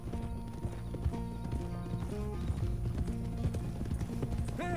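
Horse hooves clip-clop steadily at the stables in Red Dead Redemption II, a rhythmic game-world gait over a bed of background music, with a brief whinny near the end.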